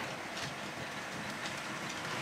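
An HO scale model train runs along a home layout, a steady hissing, rumbling drone with faint clicking from the track, continuous and fairly quiet with no talk.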